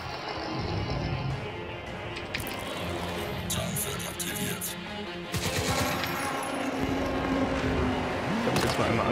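Enemy gunfire in the video game Crysis 2, scattered shots and short automatic bursts over a busy backdrop of engine-like rumble and effects, with a voice talking during it.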